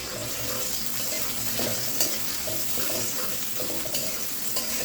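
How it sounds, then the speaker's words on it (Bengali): Chopped onion fries in oil in a wok, giving a steady, close, dense sizzle that holds at an even level throughout, with no voices. "কড়াইতে পর্যাপ্ত পরিমাণে তেল দিয়ে দিলাম, তেলের উপর পেঁয়াজ কুচি দিয়ে দিলাম।"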